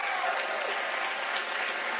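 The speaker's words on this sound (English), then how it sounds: "The clapping is to drown out the person asking the question" Sustained crowd clapping at a town-hall style event with Justin Trudeau, dense and even, with no clear speech above it.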